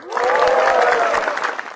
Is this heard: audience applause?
yes